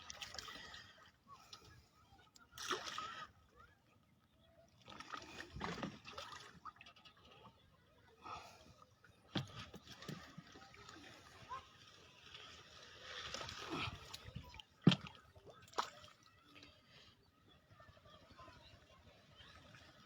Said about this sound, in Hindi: मुझे थोड़ा सा एक हाथ से अपना नाव चला रहा हूँ